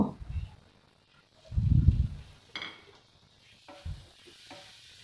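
Tomatoes dropped into hot spiced oil for an egg curry, with a few separate bursts of stirring and sizzling, one louder scraping swirl in the middle and quieter clinks of a utensil against the pan.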